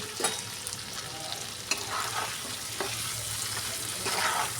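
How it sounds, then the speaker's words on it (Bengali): Fried potato and brinjal sauté in a pan with onion and spice paste, giving a soft continuous sizzle broken by a few scraping stirs of the spoon, close and moderately quiet. "তো বেগুন আর আলুটা দিয়ে আবারও খুব ভালো করে আমি কষিয়ে নেব"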